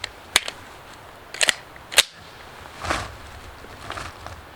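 Three sharp gunshots crack in quick succession, close and loud, as a 9mm rifle and a .22 pistol fire into a ballistic gel block outdoors, followed by softer shuffling and handling noises.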